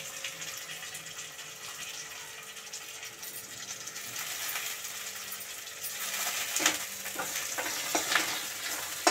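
Curry leaves and masala frying in oil, an even hissing sizzle that grows busier and more crackly with sharp spits and pops toward the end, close and without voices.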